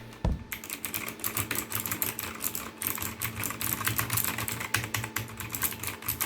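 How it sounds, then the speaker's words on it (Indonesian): Close, rapid typing on a Fantech Maxcore MK852 mechanical keyboard with blue switches, a dense, steady run of sharp clicky keystrokes lasting several seconds, with no voices. "Nah, itu suara blue switch."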